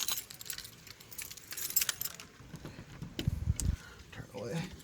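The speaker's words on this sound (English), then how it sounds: "Keys." Keys jangling in a garage beside a 1953 Dodge Job Rated truck: close, bright metallic rattles in irregular bursts, followed by a few low thuds, with someone talking around them.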